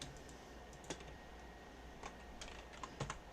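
Computer keyboard keys pressed while drawing in Adobe Illustrator, a few faint, sparse clicks over a quiet room hum.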